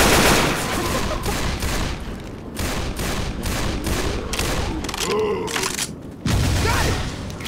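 Gunshots in Left 4 Dead, a dense run of loud repeated shots with short gaps, building to a heavy burst near the end, with faint voices in the background.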